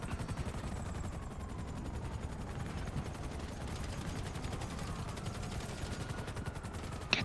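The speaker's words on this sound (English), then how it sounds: "Jesus, they're shooting." Sustained automatic gunfire in GTA Online rattles on throughout, a steady stream of shots at moderate distance, fairly quiet in the mix, with a sharper burst at the very end.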